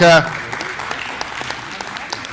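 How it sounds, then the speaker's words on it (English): Brief applause at a Jersey cattle show follows a short burst of a voice, then light scattered clapping continues at moderate distance through the rest of the moment. "give these good heifers a great round of applause again"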